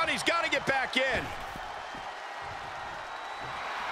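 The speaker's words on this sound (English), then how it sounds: "The sound of this crowd is deafening, and he's asking for more." An arena crowd in the WWE 2K22 wrestling game roars in a broad continuous wash, first under a commentator's voice and then carrying on alone at a steady level.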